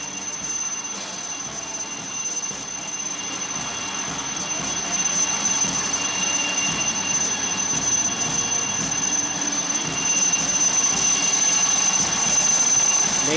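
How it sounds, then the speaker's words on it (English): Chetak helicopters at a Navy Day sea rescue demonstration off the Gateway of India, their steady broadband rotor and turbine roar filling the whole stretch, growing slightly louder toward the end, with no talk. "the Chetak helicopters are showcasing the process of recovering survivors at sea"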